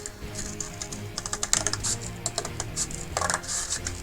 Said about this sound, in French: Alors c'est un petit peu difficile le carton à couper